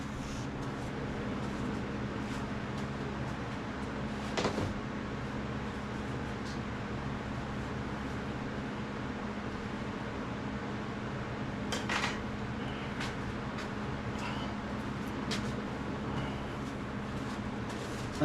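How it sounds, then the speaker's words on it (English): An electric fan runs steadily in a garage while Rust-Oleum bed liner is sprayed into an MGB's trunk, a constant broadband whir at moderate level with a few faint knocks and clatters and no talk. "I know you can hear that fan, but I have to have it running."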